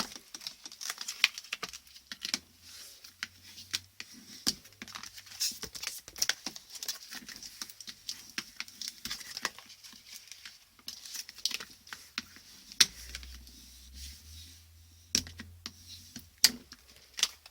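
A bone folder rescores lines on a paper folio cover, making a close series of quick, faint rubbing taps and scratches in an irregular rhythm, with a few soft paper crinkles.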